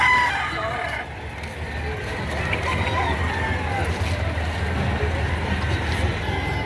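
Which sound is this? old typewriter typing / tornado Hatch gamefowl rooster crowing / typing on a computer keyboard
tornado Hatch gamefowl rooster crowing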